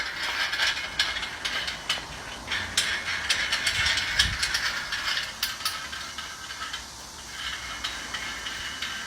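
Screws are driven in while assembling an egg laying diesel block machine, a run of close ratcheting clicks and metallic ticks with one dull knock midway.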